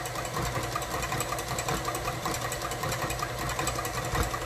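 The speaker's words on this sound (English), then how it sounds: "once that is well blended, we're gonna turn it off, lift up our little whisk" An electric whisk whirs steadily through an orange creme caramel mixture, a continuous close motor buzz with a slight rattling texture and no pauses.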